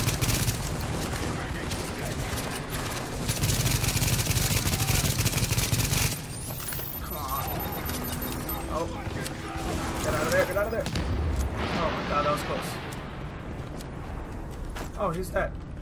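Gunfire in The Division video game, with dense rapid bursts of automatic fire loud at first, then sparser shots and impacts as someone talks over the action.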